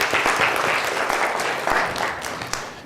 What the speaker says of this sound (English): Let's give Pete a big round of applause.